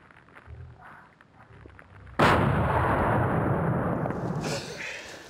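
A single loud rifle shot cracks out at close range while hunting roebuck in Scotland. It follows a quieter stretch of outdoor ambience, and a long booming rumble and echo trail off afterward.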